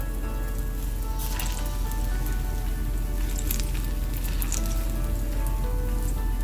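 Baby plantain fritters frying in hot oil on a stovetop burner, a continuous close sizzle with scattered pops and crackles over a low steady hum, no talking.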